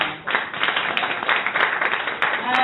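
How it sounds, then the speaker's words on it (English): An audience at a startup pitch event bursts into dense, continuous applause, many hands clapping at once for a few seconds. "Big applause."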